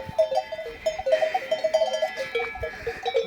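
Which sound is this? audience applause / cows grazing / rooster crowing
cows grazing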